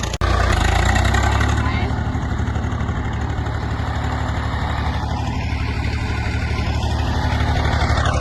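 A steady, low tractor engine idles close by, rumbling continuously, with a voice speaking over it.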